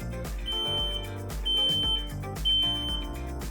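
A smart smoke detector sounds during a kitchen smoke test, giving three high, piercing beeps at a regular pace over steady background music.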